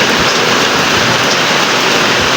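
Heavy rain pours down hard and without pause, a dense, loud, roaring wash of water drumming on surfaces all around.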